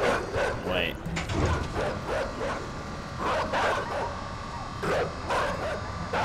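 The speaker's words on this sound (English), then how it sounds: "Dogs don't seem too happy about us." Dogs barking in the video game INSIDE, several loud sharp barks in irregular bursts under a person talking over them.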